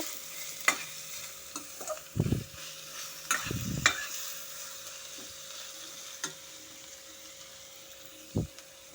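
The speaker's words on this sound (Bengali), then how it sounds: "হলুদ গুঁড়ো দিয়ে সমস্ত কিছুর সাথে ভালো মতো করে মিশিয়ে নেব" Chopped chili, onion, garlic and ginger frying with turmeric in a pan, a faint sizzle under several scraping stirs of a spoon, with a few louder scrapes and clanks spaced apart.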